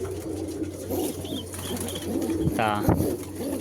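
A domestic desi pigeon gives a short, soft coo close by over a quiet background hum.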